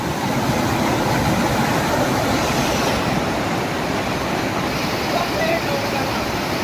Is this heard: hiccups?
no